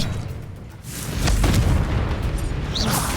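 Confringo blasting spell from Hogwarts Legacy detonating as a loud, booming explosion that swells and rumbles on for a few seconds, with a brief higher crackle near the end.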